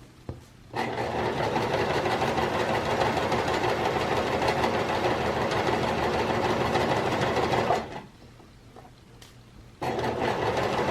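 A sewing machine stitches a fabric mask, whirring loud and close in one continuous run of about seven seconds, falling silent briefly, then starting up again.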